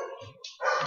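A dog barks a few times close by, short bright yaps rising into a louder final bark, heard alone indoors.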